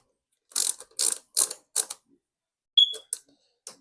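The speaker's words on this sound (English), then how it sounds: "we'll put these last Torx screws in for these" A screwdriver drives the last Torx screws into a PS4 console, giving four close, crisp bursts of ratcheting clicks in a steady rhythm, then a few lighter clicks and taps, with no talking.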